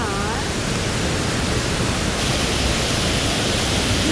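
Nabegataki waterfall in Japan, heard up close from the path leading behind the falls, roars as a constant, loud wall of rushing water with no breaks.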